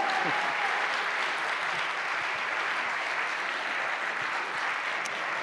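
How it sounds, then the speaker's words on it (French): Audience applause for a contestant at a Ma Thèse en 180 Secondes science communication competition, a steady, dense roar of clapping from a large crowd sustained over five seconds. "Et vous pouvez applaudir également celui qui n'en manque pas de talent, Vincent Queudot."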